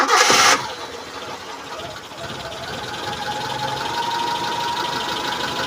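A 2003 Suzuki Futura van's engine cranks with a brief loud burst, then catches and settles into a steady, moderately loud idle.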